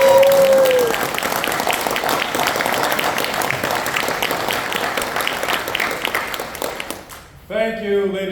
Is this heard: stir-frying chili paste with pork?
no